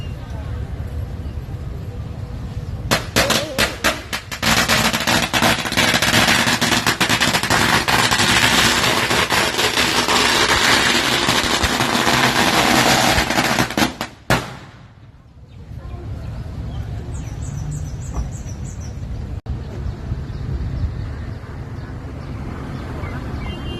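Firecrackers set off at Wat Chalong temple in Phuket crackle in a dense, loud, continuous burst for about eleven seconds, then stop abruptly, followed by quieter crowd ambience with voices.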